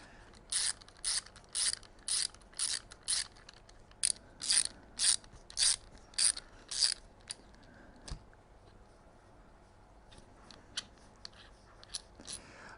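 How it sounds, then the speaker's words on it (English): A hand ratchet clicks in quick bursts of rapid pawl ticks, pausing between strokes, as it loosens the brake caliper joining bolts on a Triumph Sprint ST 955i motorcycle; close and fairly crisp, with no talking. "finish cracking open those caliper joining bolts."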